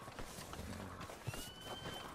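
Horse hooves clopping faintly in Red Dead Redemption II, scattered quiet hoof thuds mixed into a busy background of ambient game sounds and a thin tonal whine, with no voices.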